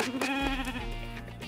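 A white Dorper sheep, a meat breed, lets out a single close, loud bleat with a wavering, nasal tone.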